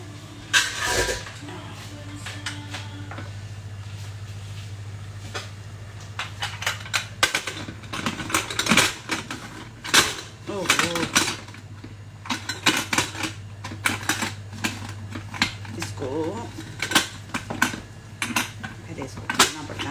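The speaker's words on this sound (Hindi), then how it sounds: "जब तक ये मैडम कुकर बंद करती हैं" A pressure cooker lid being fitted and closed in a home kitchen, a series of sharp metallic clicks and clanks in irregular bursts over a steady low hum, with people talking throughout.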